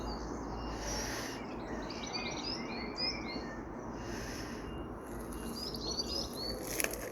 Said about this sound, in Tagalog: Mga ibon doon nag-aaway.